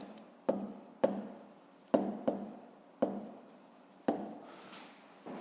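Digits being written with a pen on paper, a series of short scratchy strokes, each starting with a sharp tap and trailing off, spaced irregularly, close and quiet with no voices.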